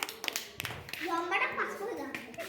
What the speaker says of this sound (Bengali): হাততালি। গুড।